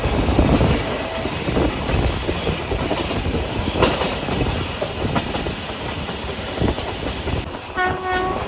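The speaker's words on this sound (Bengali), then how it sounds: "আমাদের ট্রেন দক্ষিণেশ্বর স্টেশন ক্রস করছে ঝড়ের গতিতে" The Kaziranga Express rushes through Dakshineswar station at high speed, a steady loud rumble with rapid rail clatter, and a brief horn-like tone near the end.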